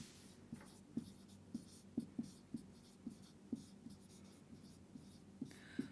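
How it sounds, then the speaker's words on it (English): Handwriting on paper up close, quiet scratchy pen strokes with a string of small taps and short scribbles, fairly soft and alone without speech. "let me write that down"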